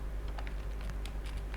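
Typing on a computer keyboard while opening a fresh Google Doc, a quick run of light clicking keystrokes over a steady low hum, close and fairly quiet.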